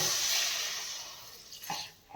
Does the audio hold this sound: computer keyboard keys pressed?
no